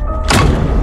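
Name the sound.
someone banging on a door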